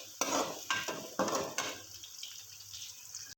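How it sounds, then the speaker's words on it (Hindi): Onions fry in a pan while being stirred, giving quiet sizzling with several sharp scraping stir strokes in the first half, then a softer steady sizzle. "अब मैं इसको फ्राई करूँगी तकरीबन बिल्कुल लाइट से ब्राउन होने तक।"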